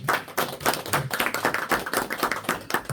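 A church congregation claps in welcome for a pastor's son during a Sunday service, with irregular, uneven bursts of hand claps close by that swell and fade over a few seconds.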